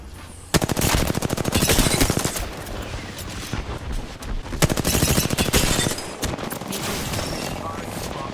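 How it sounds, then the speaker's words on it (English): Smart bullet weapon fire in a video game rattles out in long rapid automatic bursts, loud and close, with a short pause between two sustained volleys and brief trailing shots. "Firing smart bullet."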